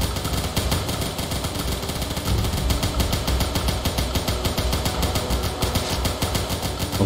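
Enemy gunfire rattles nonstop in the game War of Gold 2, a dense rapid stream of automatic shots, loud and sustained throughout with no pauses or talk.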